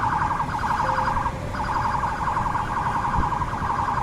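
Police van siren wailing in a repeating warble while stuck in blocked traffic at an intersection, loud and steady throughout with brief pauses in the cycle.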